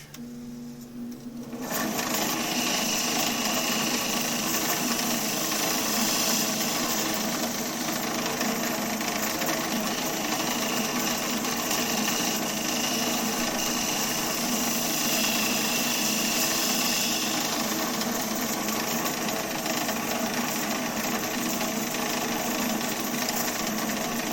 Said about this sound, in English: So let's do that with the spindle gouge.